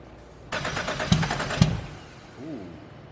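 Built single-turbo BMW N54 engine cranking on its first start, a burst of whirring turnover with two sharp knocks, then fading into a faint rough rumble, with no voices.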